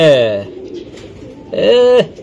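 Racing pigeons coo in two loud, close bursts with a quieter gap between them, the second burst ending abruptly.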